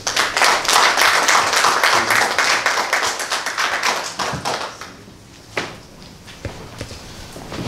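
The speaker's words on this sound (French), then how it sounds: "Monsieur Wilfried Assis, sous vos ovations" Business meetup audience applauds a man being introduced, vigorous clapping at full strength for about four seconds, then thinning to scattered individual claps and a few sharp taps before a final rise.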